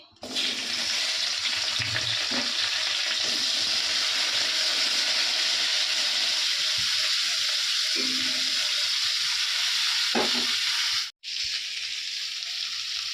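Bitter gourd frying in oil in a wok, a dense continuous sizzle with occasional soft clinks and stirring knocks, briefly cut off near the end.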